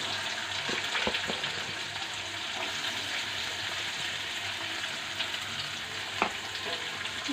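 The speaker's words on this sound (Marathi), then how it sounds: "जरासं त्याला हलवू। लाल होईपर्यंत याला चांगला मस्त करपू द्या।" Onion fries in a pan while being stirred, a continuous close sizzle with scattered spoon taps and one sharper clink toward the end.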